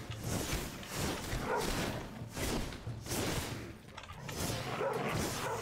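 Dog barking in the video game Enshrouded, several loud repeated barks in bursts, alone with no talk over them.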